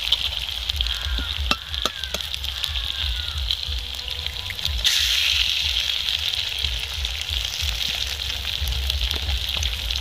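Beaten eggs sizzle in a hot pan, a steady crackling hiss that swells louder midway through, with a few small clicks.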